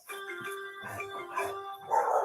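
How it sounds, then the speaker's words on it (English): A dog barks in a few short, sharp yips and woofs at moderate distance, irregularly spaced with quieter gaps between them. "We got dogs."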